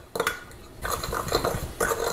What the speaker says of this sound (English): we're gonna put in the tablespoon of cornstarch and 1/2 teaspoon of cinnamon, and then mix that up